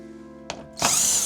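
Power drill driving screws into a carbon diffuser on a new BMW G90 M5: a short click, a pause, then a close, loud whirring burst lasting about half a second, with a faint background hum.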